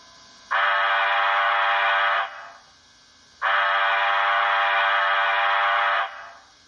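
A Rapido Royal Hudson HO scale model steam locomotive's sound decoder blows its steam whistle in two long, loud chime blasts of under two seconds each, separated by a short gap, with nothing else heard.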